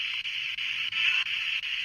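An SB7 Spirit Box sweeping radio static hisses steadily, chopped by brief regular gaps roughly every third of a second as it scans, with a thin tone drifting through.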